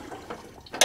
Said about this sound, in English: Stick a wrench on the other side.